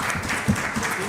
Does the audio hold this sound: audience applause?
yes